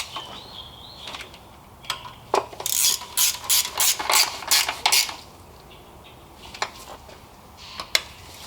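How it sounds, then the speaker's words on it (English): Ratchet tightening valve cover bolts on a Honda Accord K24 engine, with quick bursts of clicking pawl strokes in short runs and isolated single clicks, close and crisp with no talking. "then we go on ahead and tighten them up"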